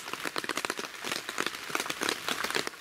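Steady rain patters and crackles on surfaces at a lakeside campsite, a dense, fairly quiet texture of close drops with no voices.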